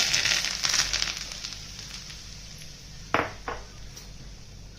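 Hot oil, three spoonfuls, poured over onion chutney: a bright crackling sizzle starts strongly and fades, followed by two sharp metallic clinks of a spoon against a pan near the end.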